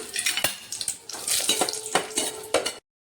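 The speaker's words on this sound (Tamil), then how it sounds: "கடுகு பொரியுதுங்களா? சவுண்டு வருதா?" Mustard seeds popping and crackling in hot oil in a pan while tempering for a pepper rasam, a close, irregular patter of sharp spits and sizzles that cuts off abruptly.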